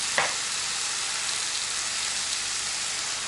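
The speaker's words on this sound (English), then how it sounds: "now we're going to add in soy sauce" Soy sauce poured onto pork chops frying in a pan sets off a loud, dense, continuous sizzle with a brief splash at the start, heard alone.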